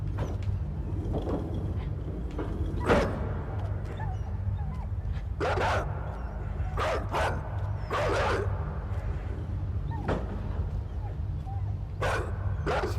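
Dog barks and yips from the game Inside, a series of short, sharp calls scattered over about thirteen seconds above a steady low hum of game ambience, with no talking.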